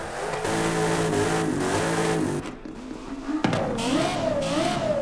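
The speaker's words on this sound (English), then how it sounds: "can actually rev the car in the garage now" A Toyota Supra with a 6.2 engine swap in Forza Horizon 5 revs in the garage, its engine note rising and falling in a few sustained pulls, loud and close with no talk.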